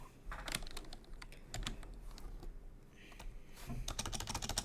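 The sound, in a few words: typing on a computer keyboard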